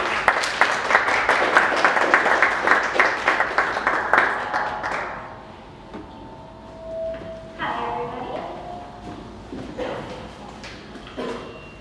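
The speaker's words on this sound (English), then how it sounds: "Now it's a tradition to stand up and give our presenter a round of applause." Standing audience at a 1 Million Cups Dallas morning presentation giving the presenter a round of applause; brisk, loud clapping for about five seconds, then fading into scattered room noise and voices.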